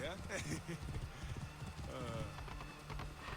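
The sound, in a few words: horse hooves clip-clopping in Assassin's Creed Origins video game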